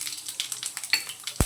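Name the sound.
tempering seeds frying in hot oil in a bowl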